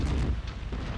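An EIPPC weapon fires in MechWarrior 5: Mercenaries, a single heavy, booming energy shot with a deep low rumble that fills the brief moment.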